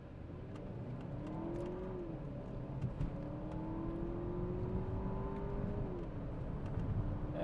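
A 2014 Audi A4 allroad launching hard on the road, its engine revving up through rising gear pulls with short shift dips, steady and close from inside the car.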